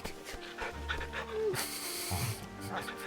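Torgal, the dog companion in Final Fantasy 16, pants in quick rhythmic breaths close up, with game dialogue and music playing around it.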